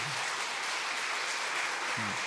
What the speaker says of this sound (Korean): 12분에 대한 박수 조그만 크게 쳐주세요